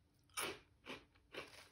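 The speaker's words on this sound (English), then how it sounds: "It's salty, bite-sized, traditional, crunchy, fried mochi." Close crunchy chewing of a salty, bite-sized fried mochi snack, three distinct crisp crunches at an even rhythm with quiet pauses between, no talking.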